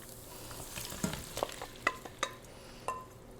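Marinated raw shrimp go into a pan of frying garlic, a steady close sizzle broken by several sharp clinks and scrapes of stirring, with no talking.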